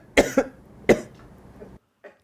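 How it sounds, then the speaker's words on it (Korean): A man coughs in a university lecture room during a simulated meeting: two quick coughs, then a single stronger cough, close and distinct, with quiet room tone between them and a faint trailing sound at the end. "한 남성이 기침하자"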